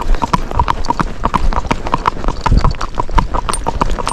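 A Rocky Mountain gaited horse trots close by, its hooves striking in a quick, busy clip-clop rhythm whose footfalls shift slightly as the animal's attention wanders.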